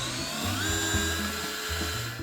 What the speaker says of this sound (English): we're gonna drill a pilot hole so we save the template